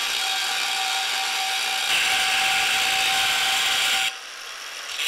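A power cutting tool slices through a part on a lowered Lexus GS, a loud, steady, high whine running close and continuous without pause before it drops in pitch near the end.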